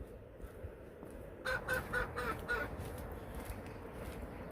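A short burst of honking, clucking calls from chickens kept in a village garden plot, several quick repeated notes close by over a steady outdoor background, then quieter ambience.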